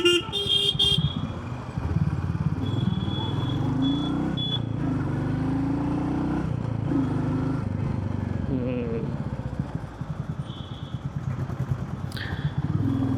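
A Royal Enfield Meteor 350 motorcycle rides through busy traffic, its engine thrumming steadily while horns toot nearby and someone talks over the road noise.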